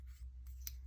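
Scissors make a single quiet snip cutting a piece of craft material in half, close and brief over a low background hum.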